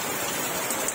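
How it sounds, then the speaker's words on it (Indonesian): Very heavy rain pouring down around Curah Koboan on the slopes of Semeru volcano, a dense, loud, unbroken hiss of downpour filling the whole moment. "Saat ini hujan sangat lebat di seputar Curakoboan maupun di bagian atas."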